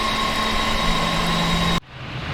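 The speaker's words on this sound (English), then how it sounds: "Pan Am starts the engines and contacts ATC." Pan Am Boeing 747 jet engines run at Los Rodeos Airport, Tenerife, as a steady loud hum with sustained whining tones that cuts off abruptly near the end.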